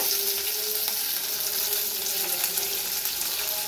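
Curry leaves sizzle and crackle in hot oil with browned urad dal, a dense, continuous hiss close up throughout, with no voices.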